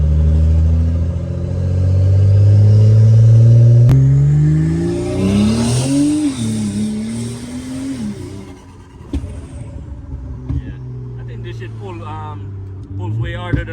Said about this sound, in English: Like your car is loud.